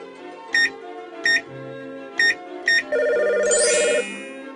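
In a children's elevator safety video game, four short electronic beeps of a phone being dialled, then a steady synthetic ringing tone, clean and close with no voices.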